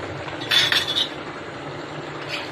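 A metal lid is set onto a pot of aubergine fish curry: one bright clink followed by a short rattle as it settles, close by in an otherwise quiet kitchen.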